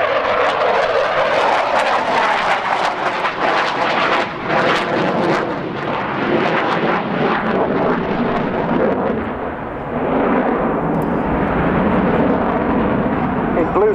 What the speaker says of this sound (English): Blue skies and MiG-29, that is what Riyadh is all about.